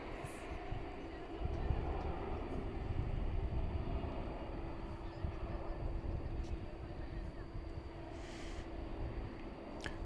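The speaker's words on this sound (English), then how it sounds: "It's an Embraer 175." An Embraer 175 lands at DFW Airport at night, a steady broadband engine roar from a distance that swells and holds over several seconds, with faint chatter in the background.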